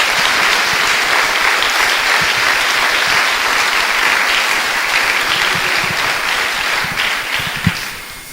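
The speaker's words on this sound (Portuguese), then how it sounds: "Não é uma salva de palmas a Jesus?" Steady, dense applause from a church congregation fills the space, holding at an even level throughout before tapering slightly at the end.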